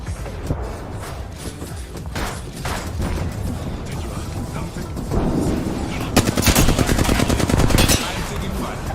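Enemy gunfire in a shooter video game crackles in rapid automatic bursts and single shots, growing louder and denser toward the end, with heavy impacts between volleys.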